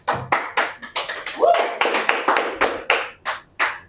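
Small open-mic poetry audience claps in short, separate bursts, the rhythm uneven and close by, with talking in between the rounds of applause.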